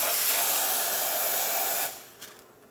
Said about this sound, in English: Okay, the steam pressure is back up, and give you a nice strong steam.